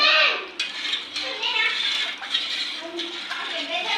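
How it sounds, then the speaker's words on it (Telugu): Tamarind juice poured into a vessel and stirred to make pani puri water, with soft clinks of dishes and splashy liquid movement close by, a brief louder pour at the start and light clatter throughout. "ఇగో చింతపండు రసం పోస్తున్నా చూడండి ఫ్రెండ్స్"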